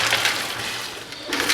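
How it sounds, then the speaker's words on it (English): Water and tumbler media from a Harbor Freight vibratory tumbler poured into a strainer, a dense rushing, gritty pour from close by that briefly eases before surging again. "get myself a strainer and just pour this all into"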